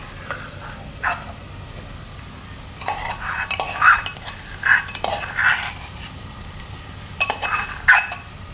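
Turmeric, coriander-cumin and other spices are stirred into a cooking pan for a Gujarati val bateta shaak, giving a series of soft scrapes and light metallic clinks that come in scattered bursts.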